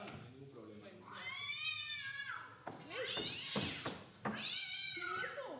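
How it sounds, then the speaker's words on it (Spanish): Several stage-effect cat meows and yowls, drawn-out and wailing, come in three close, loud bursts during a stage play of Tennessee Williams' A Streetcar Named Desire. "Los gatos, nunca he escuchado un gato"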